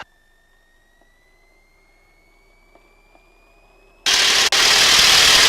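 A T-6 Texan's radial engine surges from a steady idle whine to a loud, full-throttle roar for the takeoff run, the sudden broadband blast holding strong after a brief dip.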